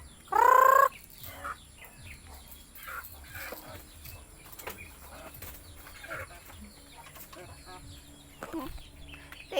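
A live chicken gives one loud, harsh squawk near the start, then only faint background sounds and quiet movement follow.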